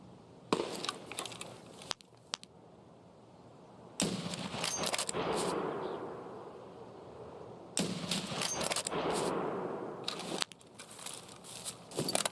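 Gunfire in the tactical shooter game Single Player Tarkov: loud bursts of repeated shots with sharp crackling reports, several volleys separated by brief pauses, with no talk over them.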